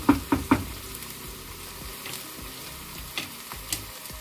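Onions fry in a pan on a medium flame while being stirred, a soft continuous sizzle broken by several sharp spoon-on-pan knocks, loudest in a quick triple at the start and a couple more later.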